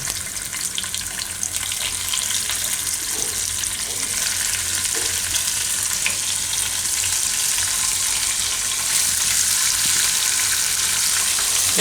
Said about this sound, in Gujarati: પનીરને થોડુંક આમાં આપણે શેકી લઈશું. આ રીતે ફેરવીને થોડું ઘણો કલર ચેન્જ થાય એવું